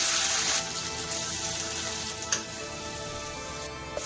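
Onion and capsicum frying in a hot pan for Odia-style chilli cabbage, a steady close sizzle and crackle that is strongest at the start and then settles.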